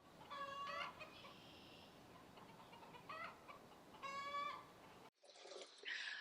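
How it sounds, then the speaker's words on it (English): A chicken clucks and squawks in bursts while laying an egg outdoors, loud repeated calls with short pauses between them, and a brief quieter stretch near the end. "We have a chicken laying an egg."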